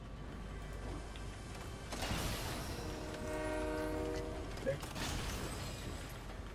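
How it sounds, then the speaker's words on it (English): Train in an online battle royale video game, a long rumbling rail pass with a sustained horn blast in the middle, fairly loud and mechanical, with no talk over it. "Jump on the train if you can."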